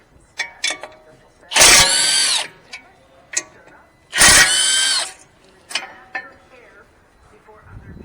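Impact gun hammering off the 18mm caliper bracket bolts on a 2018 BMW X1 during a front brake job, two loud bursts of about a second each, close up, with lighter tool clanks between them.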